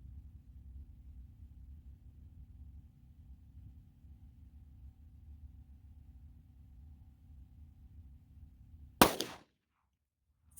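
A 9mm Speer Gold Dot 124-grain +P round fires from a pistol with a 3-inch barrel, a single loud sharp crack near the end after a stretch of low outdoor rumble, then abrupt silence.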